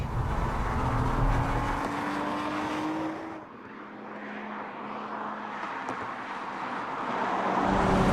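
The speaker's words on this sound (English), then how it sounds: "Here's a Hyundai sports car with a better sounding V6 than the Nissan 370." A Hyundai Genesis Coupe V6 engine drones steadily with a rising whine, easing off midway, then building again as it accelerates toward the end.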